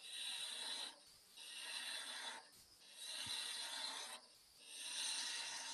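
A skew chisel cuts a V into wood spinning on a lathe, heard as three close, raspy scraping passes separated by short near-silent pauses. No speech.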